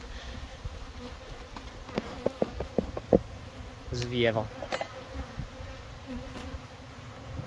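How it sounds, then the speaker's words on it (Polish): A low, steady hum of many honeybees buzzing close by at an apiary, with a person speaking briefly over it and a few sharp buzzes passing near. "Dużo pszczoły."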